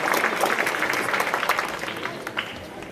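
Studio-style audience applause at a primary school graduation ceremony, dense clapping from a crowd that starts strong and gradually thins out.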